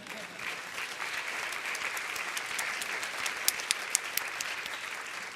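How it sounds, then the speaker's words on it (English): Steady, moderately loud audience applause fills a room at the Integrative Medicine Network Forum 2018, with a few sharper individual claps standing out near the end. "Let's give everybody one last, another applause."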